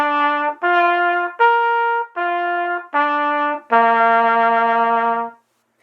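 A trumpet in a lesson for more confident players plays an arpeggio: five short, clear, separate notes followed by a longer held final note. The tone is bright and close, with no voice over it.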